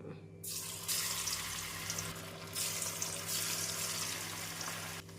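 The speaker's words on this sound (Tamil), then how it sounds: "எண்ணெய் சூடானதும் பன்னீரை பொரித்து எடுத்து விடலாம்." Paneer cubes frying in hot oil in a kitchen pan, giving a steady, dense sizzling hiss that stays close and even, with a brief break near the end.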